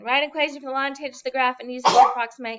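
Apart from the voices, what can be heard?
sneeze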